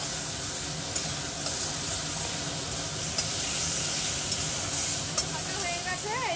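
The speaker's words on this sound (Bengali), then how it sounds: "দিয়ে এবার মাথাগুলোকে আমি ভেজে নিলাম, এই হালকা করে ভেজে নিলাম।" Hilsa fish heads fry lightly in a pan after being seasoned with turmeric and salt, giving a continuous soft sizzle with a few faint clicks.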